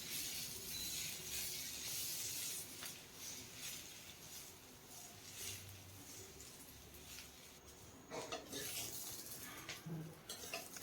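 Fried potatoes and beans being lifted out of a wok on an induction cooktop, with a steady hiss of frying and a few metallic clinks and scrapes of the utensil, fairly quiet.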